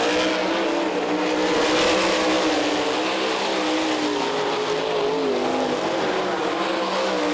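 Sprint cars race nose to tail at high speed on the Eldon Raceway dirt track in Iowa, their engines a loud, sustained high-revving roar with wavering pitch that fills the whole stretch.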